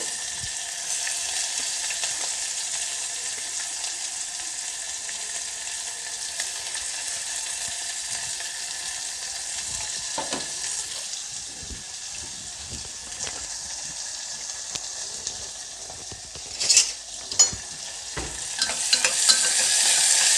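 Onion fries in hot oil in a pan, a steady bright sizzle running throughout, with a few louder stirring scrapes and clatters near the end.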